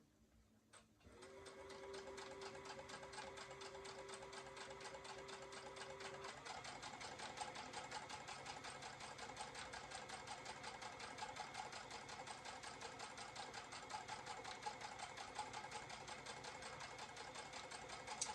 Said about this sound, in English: I'm just going to go ahead and start sewing these borders on